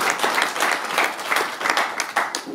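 An audience applauds Géraldine as she is introduced at a mining talk evening in Verviers, a steady, fairly dense clapping from a modest crowd that carries through the whole moment without speech.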